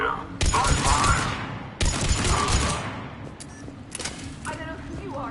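Gunfire volleys in Mass Effect 3: two loud, close bursts of rapid shots and impacts, each lasting over a second, followed by fainter scattered shots, with voices speaking amid the fighting.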